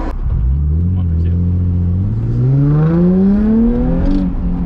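Nissan 350Z with a bolt-in hydraulic handbrake accelerating hard onto an interstate, engine note climbing steadily through a long loud pull, heard from inside the cabin.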